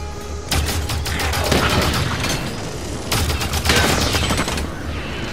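Video game gunfire from Halo 5: Guardians on Xbox One: two dense bursts of rapid shots and booms, one after the other, loud and close against steady in-game background noise.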